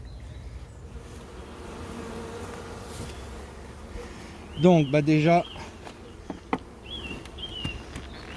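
Honeybees drone in a steady, close buzz inside a hive throughout, with a brief spoken phrase cutting in partway.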